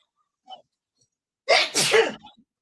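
A single loud, close human sneeze with a short breathy intake just before it, bursting out sharply and trailing off quickly in an otherwise quiet moment.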